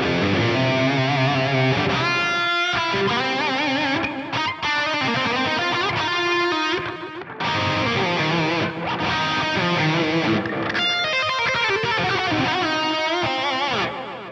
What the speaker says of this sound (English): That's got some space echo-y kind of things going on there.